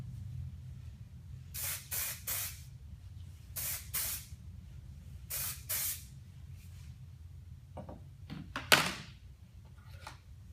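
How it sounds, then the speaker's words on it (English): Dry texture spray misted onto the ends of hair in short aerosol bursts, three quick sprays, a pause, one more, then another quick pair, each a bright close hiss over a quiet background, with a few soft handling clicks near the end. "put some of the Dry Texture Spray down through the ends,"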